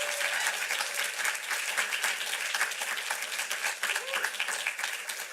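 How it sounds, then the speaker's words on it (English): Sustained applause from an audience at a Fair Housing Month kickoff event, a fairly soft, even patter of many hands clapping for several seconds with a murmur of voices beneath. "Another round of applause for Haley."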